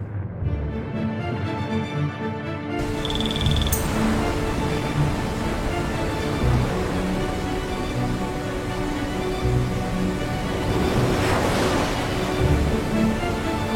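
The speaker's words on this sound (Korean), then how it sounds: "천지에 갇혀있던 물이 터져나오면서 순식간에 함경도를 휩쓸어 버렸다" Floodwater bursting out of the crater lake on Mount Baekdu after a volcanic eruption, a steady, loud rushing roar of surging water that continues without pause for about fourteen seconds, with a brief higher tone early on.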